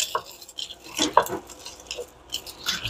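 Egg noodles being stirred in a pot, with a series of irregular metallic scrapes and clinks of a utensil against the pot, close and fairly loud.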